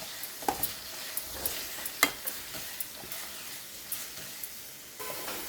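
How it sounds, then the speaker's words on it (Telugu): Very thinly chopped onions fry in a pan for veg dum biryani, a soft steady sizzle broken by light scattered crackles and stirring taps, fairly quiet and close. "ఇవి బాగా ఫ్రై చేయాలి"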